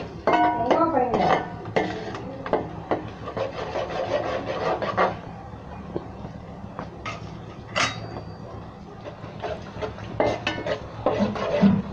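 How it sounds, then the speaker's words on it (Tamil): Green chili and garlic sauté in a pan for a rock fish curry, heard as a soft sizzle under repeated close spatula scraping and clinking against the pan, with talking over parts of it. "பச்சை மிளகாயும் பூண்டும் வதங்கிடுச்சு"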